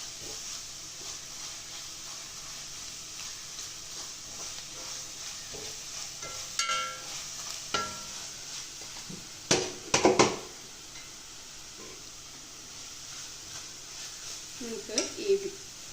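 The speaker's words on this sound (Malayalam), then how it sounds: "ഇനി ഇത് നന്നായി വഴറ്റാം." Spices with turmeric stir-fried in a pan for beef curry, a soft hiss of frying under intermittent scrapes and clinks of a utensil against the pan, with a few sharper clatters partway through; no talking.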